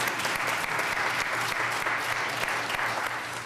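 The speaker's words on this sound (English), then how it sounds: "let's give my husband an applause, please, for 30 years." A church congregation applauds steadily during a sermon, a dense, even wash of many hands clapping that stays loud for the whole stretch with no talking over it.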